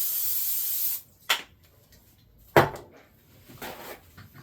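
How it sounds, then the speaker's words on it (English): Pam cooking spray hisses out in a single loud burst lasting about a second, followed by a few sharp kitchen clunks and knocks. "We're going to spray this."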